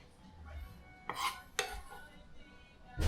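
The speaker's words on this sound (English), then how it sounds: "we're just basically dicing our tomatoes here" A knife dices tomatoes on a cutting board during prep for a Filipino shrimp and egg dish, with two sharp, close chopping hits and a faint bump at the end over quiet kitchen background.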